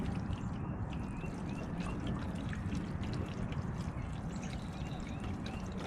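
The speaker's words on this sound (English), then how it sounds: "we're going to go ahead and just pour this water in here just to show." Water poured onto a house gutter seam during a leak check trickles and dribbles steadily with faint splashes, close and fairly quiet, with no talking.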